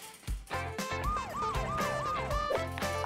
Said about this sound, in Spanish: La ambulancia ya está aquí.